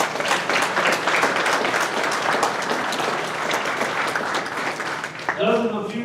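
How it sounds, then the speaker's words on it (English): A banquet audience at a JROTC awards dinner gives a sustained round of applause, loud and crowded with claps, fading as a voice begins speaking near the end. "Let's give them a round of applause."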